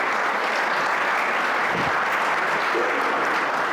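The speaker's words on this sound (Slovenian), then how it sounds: "lahko je en aplavz za mladeniča" A studio audience applauds a young man, producing dense, even clapping that fills the whole stretch with no voices over it.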